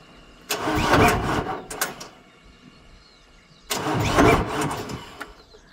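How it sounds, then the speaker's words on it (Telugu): A tractor engine started with the key, with two separate cranking bursts that catch briefly and fade, separated by a quieter pause, heard close by and without speech. "ఇక్కడ కీ స్టార్ట్ చేస్తున్నా, నూటలనే ఉంది."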